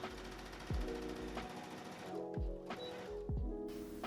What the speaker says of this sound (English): I'm just going to go ahead and sew them in